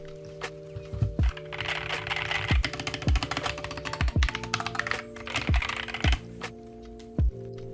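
Steady close typing on a TMKB GK61 60% mechanical keyboard fitted with Gateron optical red switches, dense clacking keystrokes with occasional heavier thocks, alongside faint low thumps, and no speech.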